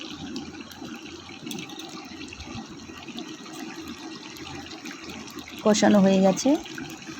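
Water pours into a pot of chicken curry for about a second near the end, a brief splashing fill over kitchen background noise, with a voice speaking earlier.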